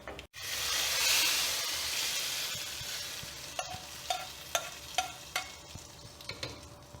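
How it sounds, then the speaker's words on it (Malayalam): Hot spice tempering poured into Udupi temple style sambar gives a loud burst of sizzling hiss that fades, followed by a series of soft clinks and stirring taps from a utensil in the pot. "ഇനി നമുക്കിത് സാമ്പാറിലേക്ക് ഒഴിച്ചു കൊടുക്കാം."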